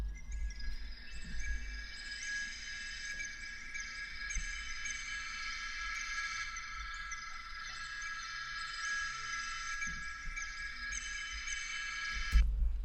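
A textural pad made in FL Studio and processed with the Portal and Manipulator plugins drones steadily, a bright, shimmering tonal layer with shifting harmonics over a soft low rumble, sustained throughout before a brief flare at the end.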